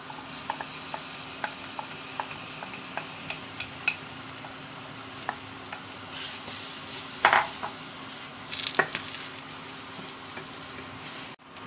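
A spoon taps and scrapes steadily against a pan while a spiced mashed potato mixture for cutlets is sautéed, with a few louder clatters near the end over a quiet background.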